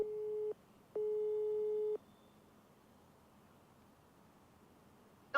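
Busy tone from a rejected phone call: two steady electronic beeps, the second about a second long, followed by a quiet gap and a short click at the end.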